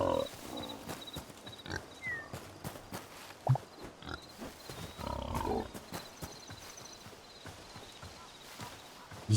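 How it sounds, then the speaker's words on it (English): Pigs in the Hytale video game grunt and snort among clattering, hoof-like footsteps and other animal noises, a steady busy mix with no clear talk over it. "This is a big pig."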